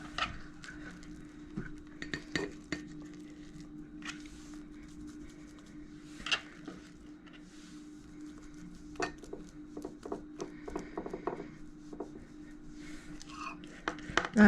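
Creamy fish pâté is spooned into a serving bowl, with scattered clinks and scrapes of utensils against dishware, intermittent and close, over a faint steady hum, without speech.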